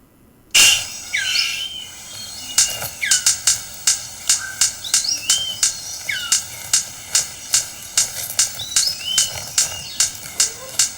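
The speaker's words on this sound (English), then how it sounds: "just to introduce you to a superb bird of paradise" A superb bird of paradise calls with a series of sharp, regular clicks or snaps that repeat roughly every half second, mixed with higher chirps and whistles.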